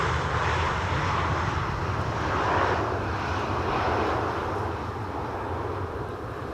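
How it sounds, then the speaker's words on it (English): Steady roar of a Boeing 757's Rolls-Royce RB211 engines, loud and continuous, swelling slightly then easing as it passes, at Schiphol runway 18R. "757 with Rolls-Royce RB211 engines, same as the 747-400"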